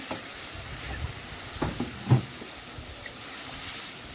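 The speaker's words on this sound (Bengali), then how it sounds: "দিয়ে দেবো জল" Water pours into a pan of bata fish curry with sautéed vegetables, producing a soft, steady sizzle with a few faint splashy pops, fairly quiet throughout.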